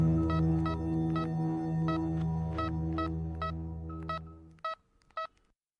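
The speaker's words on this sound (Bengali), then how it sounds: "এই কথা মাথায় আসতেই আমি অবনীবাবুকে ফোন করি" Telephone being dialled as a sound effect in a Bengali horror radio drama: a series of evenly spaced keypad beeps over a sustained droning background, ending with a few final tones after the drone cuts out.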